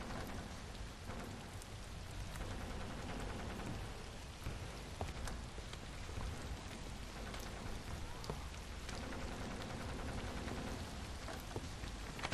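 Steady, dense rain pattering on a tent in a video game, a continuous close wash of drops with occasional louder hits and no voices.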